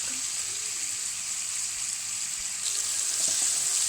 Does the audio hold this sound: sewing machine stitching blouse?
no